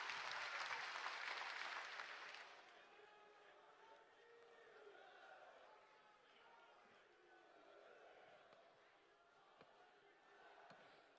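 Crowd applause at an outdoor political rally welcoming India's Prime Minister Narendra Modi in Sivasagar, Assam: a loud burst of clapping for a couple of seconds that fades into a softer, distant crowd murmur with scattered claps and cheers.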